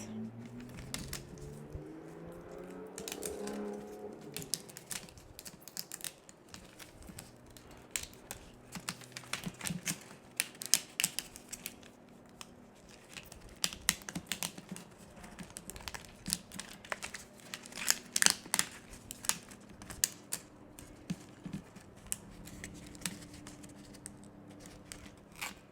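Excess Cricut Infusible Ink transfer sheet is peeled away by hand, a long run of close, crisp crinkling, tearing and rustling bursts that come in irregular flurries, with a brief hum near the start.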